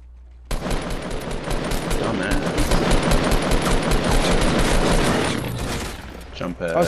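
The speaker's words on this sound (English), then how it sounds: "Oh, somebody trying to shotgun us now." Rapid bursts of gunfire in the battle royale game Fortnite, a dense crackling fusillade that starts abruptly and runs loud and continuous for several seconds before fading, with a voice talking over it.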